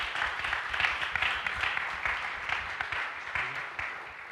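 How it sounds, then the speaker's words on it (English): An audience at a live church politics podcast recording in Akron, Ohio gives a round of applause, a steady close wash of many hands clapping that fades slightly toward the end. "Will y'all give a round of applause for these brothers?"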